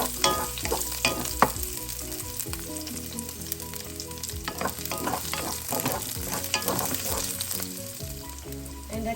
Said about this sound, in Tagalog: then we have to add the garlic, 3 cloves of sliced garlic